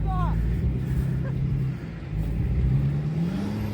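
A diesel truck stuck in mud revs hard, its tires spinning, with a steady loud low engine drone that dips briefly midway before surging again, while people talk over it.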